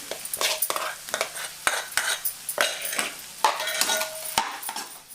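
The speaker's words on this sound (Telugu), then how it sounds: "మనం రుద్ది పెట్టిన ఆలుగడ్డ పేస్ట్ని కూడా దీంట్లోనే వేసి కలుపుకుందాం." Mashed potato paste and boiled peas mixed together in a pan for samosa filling, a spoon scraping and clinking against the vessel in quick, irregular strokes, close and clear with no talk.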